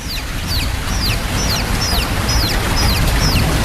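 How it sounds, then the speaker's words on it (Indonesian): Chicks peeping at night, a loud, steady series of sharp chirps repeating about twice a second over a constant low rumbling background. "aku mendengar suara ada anak ayam."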